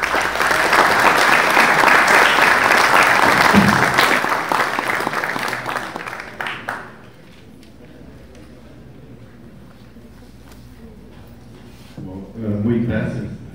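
An audience at a Spanish-language conference on the finite element method gives a full, steady round of clapping for a speaker. It fades after about seven seconds and a voice then speaks quietly.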